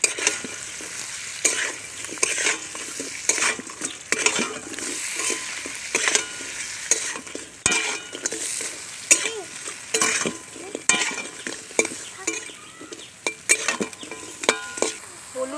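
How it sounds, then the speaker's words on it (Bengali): Sea crabs frying in a pan with turmeric and salt crackle and sizzle steadily up close, while frequent sharp scrapes and clacks of a spatula stirring them keep a busy irregular rhythm throughout, with no speech. "কাঁকড়াগুলো আমি ভালো করে ভেজে নেব"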